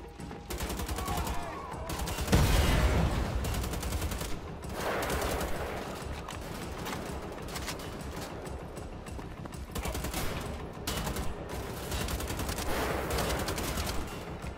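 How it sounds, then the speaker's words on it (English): Assault rifle fire in Wolfenstein: The Old Blood: repeated long bursts of rapid automatic shots separated by short pauses, loud and close throughout, over a steady game background. "Assault rifle."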